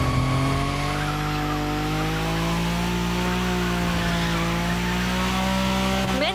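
Tires squeal steadily while drifting a car in The Crew Motorfest racing game, with a loud engine drone held throughout the continuous, unbroken slide.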